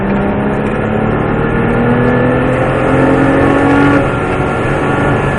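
Porsche 997S GT3 Aerokit race car on the Mettet circuit, its engine droning loud and close from the cockpit, rising and falling in pitch through gear changes over several seconds.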